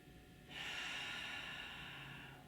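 A long, deep breath drawn in and out during a gentle office-worker stretch, steady and close, lasting about two seconds with no talking.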